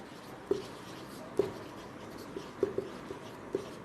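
Marker or chalk tapping and scratching on a board while an equation is written, a handful of short, sharp strokes spaced irregularly over a quiet room background.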